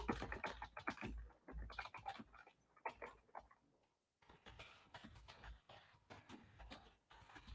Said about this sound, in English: I'm typing this out, sorry.